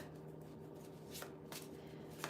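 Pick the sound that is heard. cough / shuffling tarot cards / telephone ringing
shuffling tarot cards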